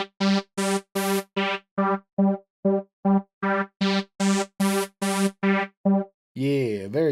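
Helm software synth playing a run of separate notes with velocity routed to the filter, so softer notes sound dull and closed while harder ones open up bright, ending in a sweeping, wobbling tone.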